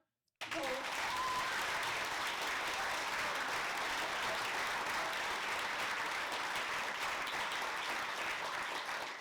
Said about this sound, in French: Je voudrais un tonnerre d'applaudissements pour la régie,